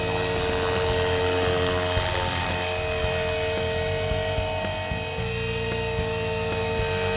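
A Blade 450 RC helicopter whines continuously up close, its rotor pitch wavering and shifting unevenly throughout as the tail acts erratically.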